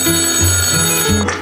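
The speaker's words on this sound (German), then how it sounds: "Telefon." A telephone bell rings in steady repeated trills, loud and close, with a held musical tone running beneath the rings.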